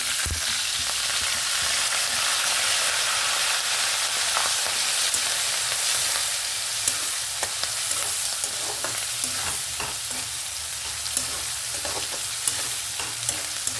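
Onion, green chili and drumstick pieces sizzle steadily in hot oil for a curry, a loud continuous hiss with occasional stirring scrapes and small pops, no talking.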